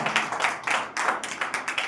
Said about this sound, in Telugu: ఒకసారి చప్పట్లు కొడదాము గట్టిగా